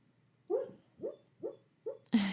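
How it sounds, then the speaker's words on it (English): A sleeping, dreaming puppy lets out four short muffled whimpering yips, evenly spaced and close, followed by a brief louder rustle at the end. "If you hear that sound, that's my puppy."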